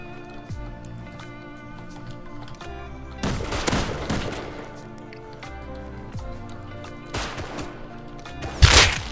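Gunfire in the survival game Rust comes in a few short, loud bursts spread over a quieter game ambience, with the last burst sharpest and closest.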